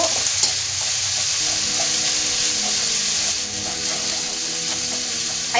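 Spice paste fries in a pan with a steady, busy sizzle and faint crackles, heard close and continuous with no voices over it.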